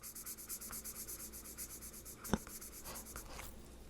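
A pen marks off a number on a paper savings challenge card with faint, quick scratching strokes close by, ending in a couple of firmer taps.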